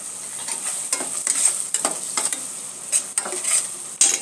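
Prawns and spices fry in a pan with a steady sizzle while a utensil stirs them in repeated scraping strokes, close and fairly loud, with no voices.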